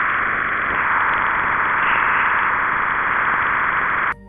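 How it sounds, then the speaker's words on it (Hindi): Radio signals from Jupiter turned into sound give a dense, steady hiss of band-limited static with faint wavering, which cuts off abruptly at the end. "जुपिटर का साउंड आप सुन सकते हैं।"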